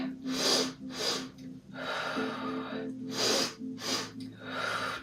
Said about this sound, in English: Exhale back.